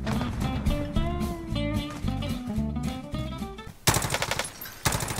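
Rapid automatic fire from a new high-recoil gun in the shooter game Rebirth, loud bursts of close shots over music, with sharper, harder volleys toward the end.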